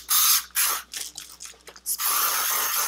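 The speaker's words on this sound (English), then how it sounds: "as soon as you spray it on your hair" Hairspray hisses onto short, frizzy, wavy curled hair in close, loud aerosol bursts: one long spray, several short choppy puffs, then another sustained spray to the end.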